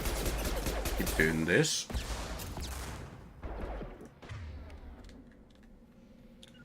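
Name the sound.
gunfire in the video game Mass Effect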